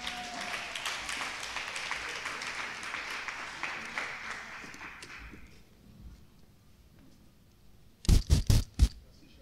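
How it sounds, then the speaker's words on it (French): A church congregation at a Sunday service bursts into sustained, dense applause that carries for several seconds and then fades away. After a short quiet gap, a few loud, sharp bursts ring out close by. "On peut applaudir tous les orateurs du jour."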